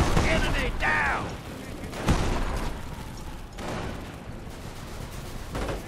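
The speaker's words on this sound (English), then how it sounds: "Taking rifle fire!" Rifle fire and battle noise in the World War II strategy game Company of Heroes, scattered cracking shots and clattering weapon mechanisms in a busy, dense mix, with voices calling out over the fighting.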